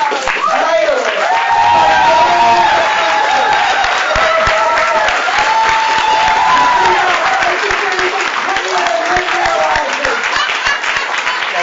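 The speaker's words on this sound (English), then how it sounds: "By the way, really special applause." Enthusiastic audience applause and cheering at a birthday celebration in a theater, loud and sustained for nearly twelve seconds, with whoops and shouted voices riding over the clapping.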